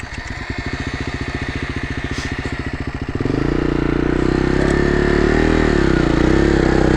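A KTM 350 EXC-F dirt bike engine on rocky terrain, first chugging at low revs with a rapid even thump, then rising into a loud sustained rev as it climbs.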